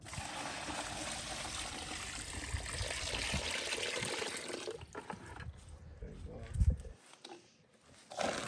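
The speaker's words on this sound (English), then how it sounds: "So I'm just gonna pour some water in there." Water poured into a cement mix for a DIY Christmas tree base: a steady, fairly close rushing trickle that stops partway through, followed by a few knocks and quieter handling.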